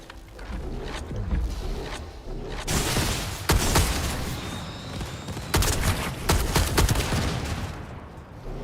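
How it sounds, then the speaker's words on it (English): Gunfire in the video game Heroes of the Storm, loud rapid bursts and sharp cracks over a dense roar of battle effects, continuous and close for the whole stretch. "I hear gunshots."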